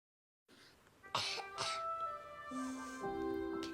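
A child gives a few short, sharp coughs close by, followed by sustained tonal sounds that continue underneath.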